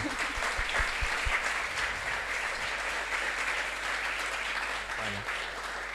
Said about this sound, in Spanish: Pero un aplauso.